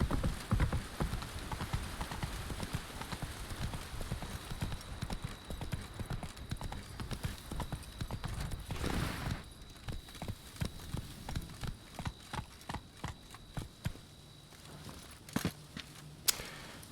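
Hooves of Roach, the horse in The Witcher 3, clop in a quick rhythmic gallop, a continuous run of hoofbeats with faint ambient patter behind.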